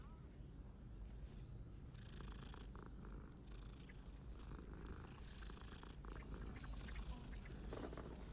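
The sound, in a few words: cat purring in video game Hogwarts Legacy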